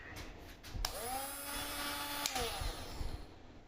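A cheap no-name 12-volt max lithium cordless mini grinder whines up at close range, holding a steady high-pitched running tone for about a second and a half before winding down, with workshop noise before and after.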